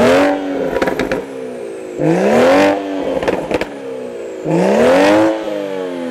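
A project car's engine is revved hard three times in quick succession, each loud rising roar dropping back to a rough idle between bursts, heard up close.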